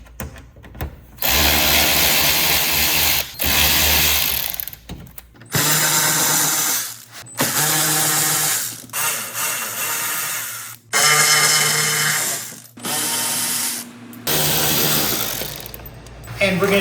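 Power tool spinning out T27 fasteners from the dust tray under a Ford Focus ST, loud whirring bursts of a few seconds each, separated by short pauses.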